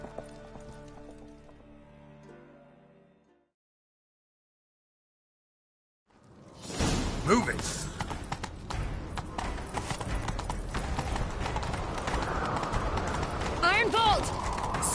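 Music fades to a brief silence, then horses gallop hard and close in The Witcher 3 with rapid hoofbeats and a whinny, while a voice shouts over them.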